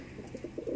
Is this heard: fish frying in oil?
no